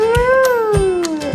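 A cat gives one long, clear meow that rises and then slowly falls in pitch, close and loud, over a few soft low thumps.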